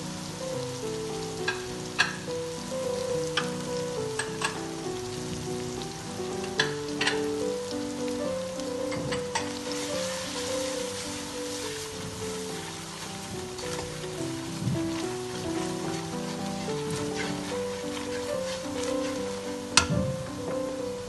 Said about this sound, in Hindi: अब मैं ये हल्का हल्का भुनना शुरू हो गया और मैं इसके साथ साथ ये मसाले भी डाल दूँगी।